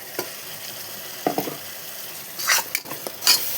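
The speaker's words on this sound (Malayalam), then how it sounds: "നല്ലോണം മിക്സ് ചെയ്ത് ഇതിൻ്റെ പച്ച മണം മാറുന്നത് വരെ ഒന്ന് വഴറ്റിയെടുക്കാം" A ground spice paste and onions being stirred and sautéed in a pan for chicken curry, with a soft frying hiss broken by a few brief scrapes and clinks of the spoon against the pan, close and without talk.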